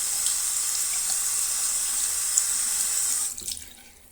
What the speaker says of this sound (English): Rinse again, 4 inches below the faucet.